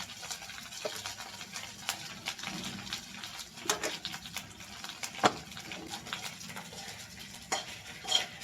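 Greens for chutney sizzle in a pan as a spoon stirs them, a steady soft crackle broken by repeated scraping clicks of utensil against metal, close by with no talk.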